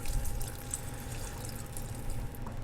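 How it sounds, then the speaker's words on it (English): Beef broth poured slowly into a pot of French onion soup gives a soft, steady trickling and splashing of liquid, close and continuous with no talking. "we're gonna go ahead and slowly pour our beef broth in"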